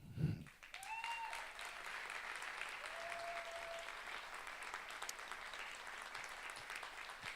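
Church congregation applause, a sustained wash of many hands clapping at a distance, steady and fairly soft for several seconds, with faint voices and a brief thump at the start.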